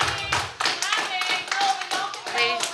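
An audience at a school board meeting bursts into loud, sustained applause made of dense, uneven clapping, and a voice speaks over it.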